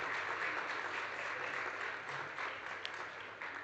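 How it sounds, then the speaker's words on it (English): An audience at a hotel school launch event applauds the minister after a speech, a steady wash of many hands clapping, fairly distant and even in level. "let's continue clapping for the minister in appreciation"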